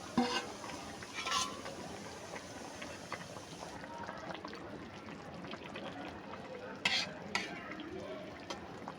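Koi fish cooks in a pan with pointed gourd and bori, giving a soft steady sizzle with a few stirring scrapes and clinks, fairly faint, with light talk over it.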